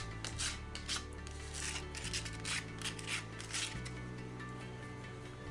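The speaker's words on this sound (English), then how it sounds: "just a bit of a sanding now" Hand sanding on a dried prop phaser, a Type 2 Boomerang replica: steady scratchy strokes of abrasive rasping over the surface in close, repeated passes under a constant low hum.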